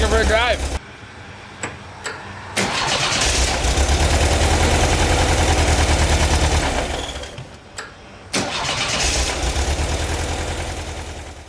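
A 1977 2-liter car engine, its valves just adjusted with hydraulic lifters, cranks and fires into a loud, steady running rumble close by, dropping briefly before catching again and running on.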